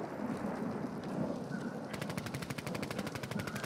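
Automatic gunfire in Warzone 2.0 breaks out halfway through as a fast, even string of sharp rounds over a rumbling wind-like background, fairly loud and close.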